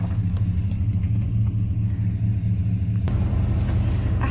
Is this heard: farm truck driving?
yes